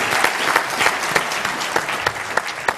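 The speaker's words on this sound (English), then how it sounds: "I'd like to give him a hand of applause." Audience applause at a Pittsburgh panel discussion, a steady wash of clapping from a crowd with a few sharper individual claps standing out, moderately loud and continuous throughout.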